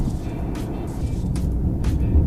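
An 11-year-old Maruti Suzuki WagonR driving on the road, heard from inside the cabin as a steady low rumble of engine and tyres with occasional soft thumps from a rough, thrashy ride.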